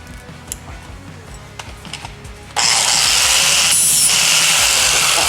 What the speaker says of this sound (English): Now I want to try just to grind a weld off this